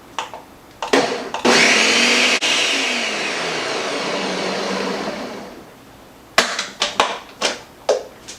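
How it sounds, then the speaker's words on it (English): A blender whirs loudly for several seconds through Mexican sweet corn cake batter, rising to a steady roar and then winding down, with sharp clunks of the jar before and after. "we're going to blend this 15 to 20 seconds"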